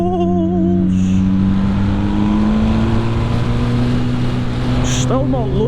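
A 2020 MV Agusta Brutale 1000 RR engine drones steadily while riding on a country road, a loud, continuous note that rises slowly in pitch, with wind rush and a few brief chirps over it.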